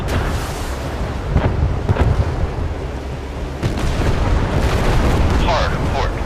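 Warship guns firing in a naval combat video game, booming blasts and rumbling explosions over a constant roar of battle, with voices talking over parts.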